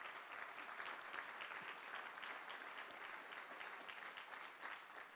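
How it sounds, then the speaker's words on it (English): Sustained applause from a keynote audience, a steady dense wash of many hands clapping together, fairly faint and distant, continuing without a break for about five seconds. "How about a round of applause for that?"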